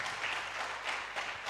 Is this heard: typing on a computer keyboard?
no